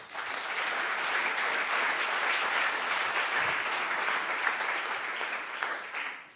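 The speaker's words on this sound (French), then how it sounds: "On peut les applaudir aussi." A conference audience of about 350 people applauds steadily, dense clapping filling the room at an even level before it fades at the end.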